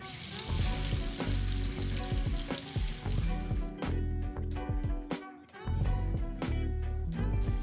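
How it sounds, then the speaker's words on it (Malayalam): Marinated bitter gourd pieces hit hot oil in a pan, giving a loud, dense, steady sizzle punctuated by sharp metallic clinks and scrapes, heard up close with no talk. "എണ്ണ നന്നായി ചൂടായതിന് ശേഷം മാരിനേറ്റ് ചെയ്ത് വെച്ച കൈപ്പയ്ക്ക് അതിലേക്ക് ഇട്ട് കൊടുക്കാം."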